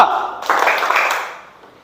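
A roomful of children claps together in a classroom clapping game: a loud, ragged burst of many hands that rings on briefly and fades, with no talking over it.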